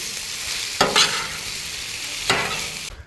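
Chicken stir fry being stirred and mixed on a 36-inch Blackstone griddle outdoors, a steady sizzle broken by two sharp scraping spatula strokes, close and fairly loud, with no talking.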